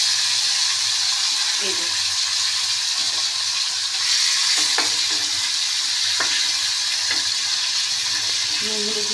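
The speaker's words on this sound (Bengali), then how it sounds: "নুন হলুদ মাখিয়ে মাছগুলো আমি একদম ভাজতে বসিয়ে দিয়েছি" Bata fish rubbed with salt and turmeric frying in hot oil, giving a steady, dense sizzle throughout with a few soft clinks and a brief spoken phrase.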